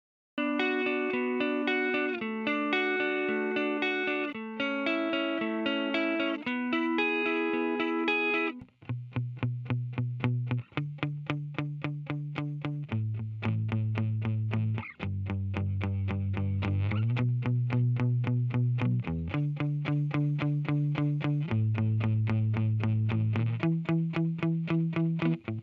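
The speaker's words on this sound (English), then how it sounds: "there's a special kind of grungy distortion on 1176s" Grungy, saturated distortion from an 1176 compressor plugin on a melodic synth or keyboard line, steady and loud with repeating chord stabs and a bass-heavy second half, alone without talk.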